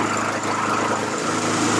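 A Honda HRR216 lawn mower engine runs steadily close by, a continuous loud droning idle with even low pulsing throughout and no talking.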